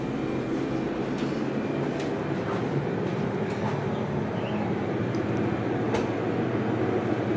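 Dover Impulse hydraulic auxiliary elevator #1 at a Fairfield Inn, Marriott Village, running with a steady low mechanical rumble and hum that holds evenly throughout, with faint rattles and clicks over it and no voices.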